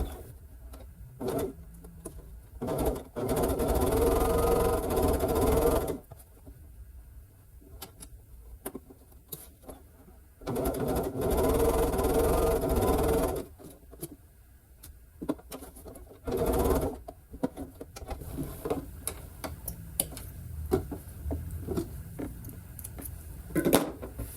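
A sewing machine stitches across a pressed seam line on a scrappy sashed heart quilt block, with several close runs of rapid stitching separated by quiet gaps full of small handling clicks.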